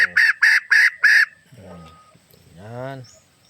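A homemade chicken-call whistle imitates a wild chicken, giving four sharp, bright, evenly spaced crowing blasts, followed by softer lower warbling calls that fade out.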